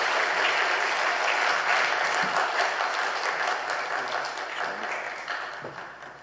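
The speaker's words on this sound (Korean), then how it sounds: "우리 따뜻한 위로와 격려의 박수로 우리 심재창 교수님을 환영하겠습니다" Church congregation at a Sunday afternoon service applauding to welcome a guest professor, a full, sustained round of clapping from many hands that gradually tapers off toward the end.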